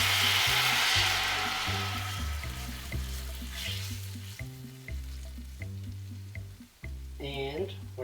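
Sweet and sour sauce sizzling with cooked garlic in a pan, a loud hiss at first that eases over the seconds, with music playing underneath and a voice briefly heard.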